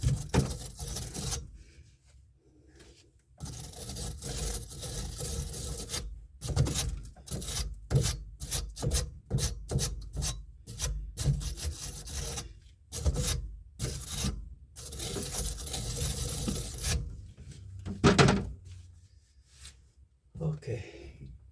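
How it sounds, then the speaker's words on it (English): Steady rasping scrubbing on threaded bathroom sink drain pipe, a run of rapid rhythmic strokes broken by short pauses, close and fairly quiet. "Let's try and get some of the gunk out of the threads."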